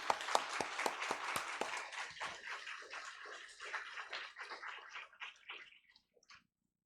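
A church congregation applauds loudly as a visiting pastor comes forward, opening with a few sharp claps that swell into dense clapping and then thin out and fade to silence.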